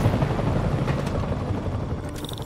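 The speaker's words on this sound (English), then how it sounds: "Or maybe that helicopter's gonna tell us." A helicopter in the Marvel's Spider-Man video game gives a dense, continuous rotor rumble and drone, loud and close, holding steady for the whole moment.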